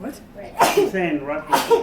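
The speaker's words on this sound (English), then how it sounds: "That's why she sneezes next to me." A person sneezes sharply twice, close up, the bursts separated by about a second, with someone speaking between them.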